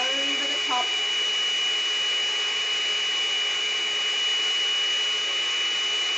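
Air blown across a pour of white acrylic paint laid over pink and turquoise for a placemat bloom pour, giving a steady, close, continuous airy hiss with a brief faint knock near the start and no voices.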